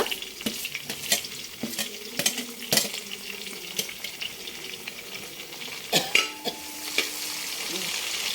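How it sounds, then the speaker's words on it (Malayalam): Green chillies and curry leaves frying in a pan, with a constant crackling sizzle overlaid by sharp scraping and clinking stirring strokes, close and moderately loud, and no speech. "ഒന്ന് മൂത്ത് വരുമ്പോൾ പച്ചമുളക് ഇടുക ഒപ്പം കറിവേപ്പില"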